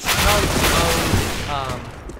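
Dense gunfire rings out through a Counter-Strike match between The Mongolz and Natus Vincere at IEM Katowice around bomb site B, a loud, continuous burst of rifle and machine-gun shots with a caster's voice faintly underneath.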